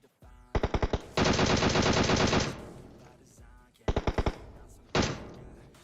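Rapid automatic gunfire in the mobile battle-royale shooter PUBG Mobile: quick bursts of close, loud shots, a longer sustained volley, then two more short bursts separated by brief gaps.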